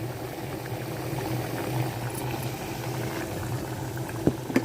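Jaggery appalu, sweet fritters, frying in hot oil, giving a steady close sizzling and bubbling hiss with a few small pops near the end and no speech.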